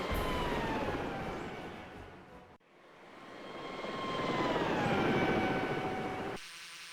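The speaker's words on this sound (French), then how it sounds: "Arrêtons les turbines et coupons le moteur." A video-game helicopter sets down on the deck of a frigate, its steady turbine roar and rotor drone loud and continuous, briefly cutting out midway before swelling again and ending abruptly.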